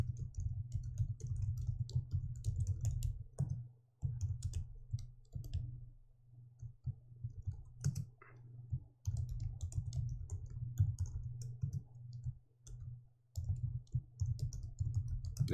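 Keys clatter on a computer keyboard while Java code is entered, with an Enter key press among scattered clicks and soft bursts of typing that stop and start throughout, close and fairly quiet.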